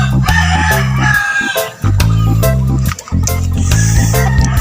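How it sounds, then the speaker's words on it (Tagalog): Roosters and chickens at a small game farm crow loudly and close by, several long harmonic calls overlapping, with clucking between them and brief gaps. "So ayan yung manukan natin, mga manok"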